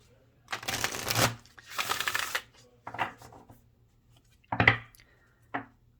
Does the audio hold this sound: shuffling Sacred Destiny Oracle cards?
yes